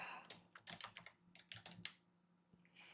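Rapid typing on a computer keyboard, with bursts of close, crisp key clicks in irregular clusters and brief pauses, loudest in the first two seconds and softer toward the end.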